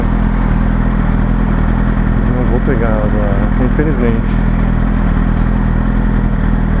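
A Yamaha R1 sportbike rides through Sydney, with a steady, loud engine drone and wind roar that run unbroken throughout while someone talks over it.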